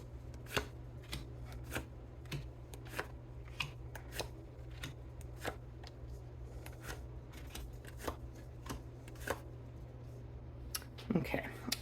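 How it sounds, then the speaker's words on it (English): Tarot cards being shuffled and pulled one by one from a deck, a close series of crisp irregular snaps and flicks with a quiet steady hum behind them and a denser rustle at the end. "let's pull 9 cards from here."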